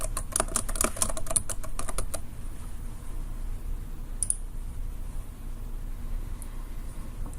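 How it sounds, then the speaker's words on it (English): Typing into a computer search bar: a quick run of close, crisp keyboard clicks for a couple of seconds, then one brief tap, over faint background hiss. "You can also type Google Art Project into the search bar."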